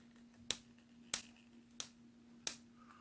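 Four sharp, crisp clicks from a bidet attachment's control dial, spaced evenly about two-thirds of a second apart, close and quiet over a faint steady hum.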